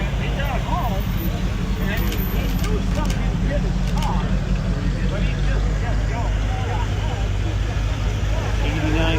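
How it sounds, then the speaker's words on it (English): At a weekly outdoor car show, engines rumble steadily as a couple of cars pull in, a loud continuous low drone with people talking over it throughout. "Couple cars pulling in."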